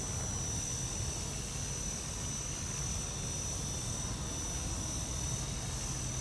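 A small EXI 450 Pro RC helicopter's rotor and motor whine hum steadily at a distance, a constant buzzing drone with no pauses.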